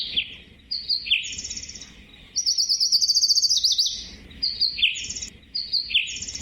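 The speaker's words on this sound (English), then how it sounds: "lucii, Lucy's warbler." Lucy's warbler singing close by: repeated bright, high trills and chirped phrases in several bursts, one longer run in the middle, with no other voices.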